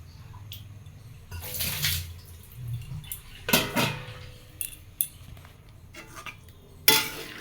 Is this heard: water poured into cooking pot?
yes